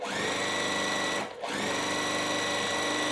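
A sewing machine stitches a quilt block piece, a fast steady mechanical whir with a brief pause near the middle before resuming, close and alone with no talking.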